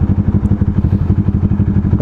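A motorcycle carrying a family with a child runs close by, its engine a loud, steady, rhythmic low putter pulsing evenly throughout, with no talking.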